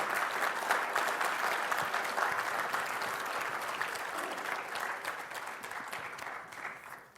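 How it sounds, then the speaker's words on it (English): Sustained audience clapping from a crowd, steady and fairly loud for several seconds before tapering slightly at the end, with no talk over it. "Yes, quick, get them clapping, go on."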